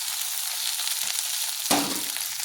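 Chili and onion sizzle loudly in a hot pan while pork momo is being prepared, a steady close frying hiss with a brief stirring clatter near the end.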